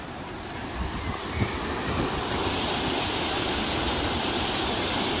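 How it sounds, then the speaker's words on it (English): Small waterfall water feature beside a country lane near Drummond on the West Highland Way, a steady broadband rush of falling water heard nearby and alone. "Nice little water feature down there."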